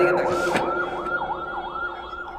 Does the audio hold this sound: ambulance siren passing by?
yes